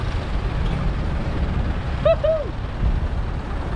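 Heavy road traffic with trucks and buses rumbles as a steady low engine drone, with a brief squealing brake or horn-like tone midway and a person speaking over the noise.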